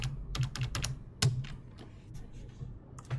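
Keys clack on a computer keyboard as a number is entered in Space Engineers, a quick burst of close, crisp taps, then a pause and a few more strokes, heard alone.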